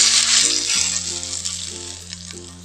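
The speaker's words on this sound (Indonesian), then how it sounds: "Langsung kita akan siram sambalnya ini dengan minyak panas." Hot oil poured over salted-egg sambal sizzles loudly and steadily, a dense crackling hiss that holds throughout with a low rattling hum beneath.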